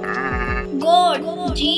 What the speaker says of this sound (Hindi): GOAT गोट उर्दू में बकरी।